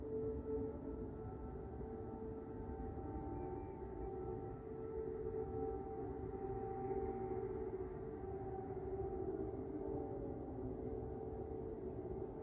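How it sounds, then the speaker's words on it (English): Air raid sirens wailing over Kyiv during an airstrike, a sustained distant tone that holds steady for the full stretch over a low background rumble, with no voices. "those horrifying, those very ominous sirens that blare out during airstrikes"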